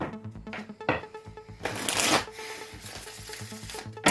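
Oracle cards being shuffled during a tarot reading, a steady papery riffling and rubbing that runs throughout, with a louder burst of flicking partway through and no talking.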